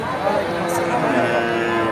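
Heifer calves at a busy cattle market, a constant crowded din of animals and people, with voices talking throughout.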